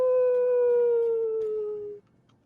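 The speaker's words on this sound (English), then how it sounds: "the soundtrack played a wolf howl" A sustained wolf howl played as a sound effect, one long steady tone gliding slowly downward for about two seconds, loud and alone, then cutting off abruptly.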